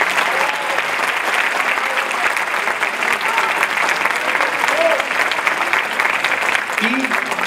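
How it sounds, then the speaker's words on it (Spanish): A large audience claps loudly and continuously for pioneering folk dance teachers at an anniversary celebration of a Sinaloa folkloric dance company, with crowd murmur and a few faint shouts mixed in. "Un fuerte aplauso para ellos,"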